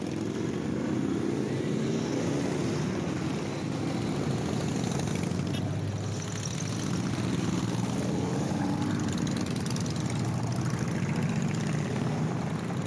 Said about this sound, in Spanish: dejemos el sonido de los motores, que me encanta el sonido del motor Harley Davidson